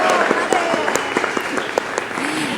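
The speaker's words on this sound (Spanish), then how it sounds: "Por favor, otro fuerte aplauso para el padre Juan Beristain de los Santos" An audience applauds a priest, Father Juan Beristain de los Santos, at a panel event, with dense steady clapping from a crowd and scattered sharper claps standing out, sustained throughout.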